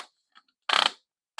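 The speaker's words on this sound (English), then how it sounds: "There's a lot of click-clacking on these arms." Ratcheting arms on a rotating planetarium star projector give a short burst of rapid plastic click-clacks, close and fairly loud, with a few faint ticks before it and another click starting at the end.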